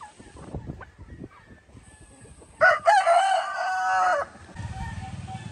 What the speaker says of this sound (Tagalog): Ito naman yung white leghorn natin na rooster mga ka-farmers.